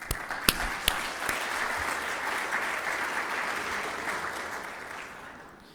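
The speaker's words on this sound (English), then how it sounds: "a big hand of applause" A hall of delegates at the 50th World Archery Congress in Belek, Antalya, breaks into sustained applause, opening with a few sharp claps before settling into a steady wash that slowly fades.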